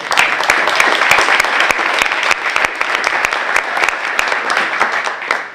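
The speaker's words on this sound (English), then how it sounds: "So can we just have a round of applause?" Steady audience applause at a design community talk in Ireland, many hands clapping densely and evenly throughout, loud and close, with no talking over it.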